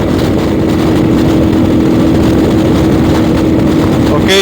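A 2023 Yamaha Tenere World Raid motorcycle engine roars steadily and loudly, a dense continuous drone with no pauses, heard up close.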